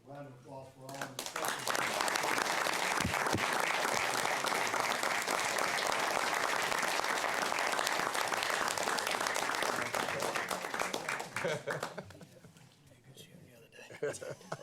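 A crowd at a city council meeting breaks into sustained, loud applause that swells quickly, holds for several seconds, then tapers off as voices rise.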